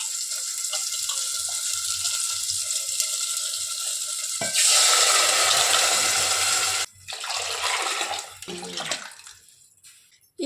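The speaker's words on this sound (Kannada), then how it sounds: "ಏನಮ್ಮ ಹಿಂಗೆ ಉಯ್ತಾ ಇದೆಯಾ ನೀರ?" Water poured for cooking sprouted horse gram, a loud continuous gush that grows heavier midway, breaks off briefly and resumes before tapering away, close by and without talk.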